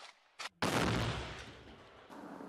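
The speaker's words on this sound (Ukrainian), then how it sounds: "Поки працюємо, чуємо потужний вибух із боку сусідньої Мар'їнки." A powerful explosion from mortar fire near Marinka in eastern Ukraine cracks suddenly after a brief earlier thump, then rumbles and decays into a long, fading distant roar with no talk.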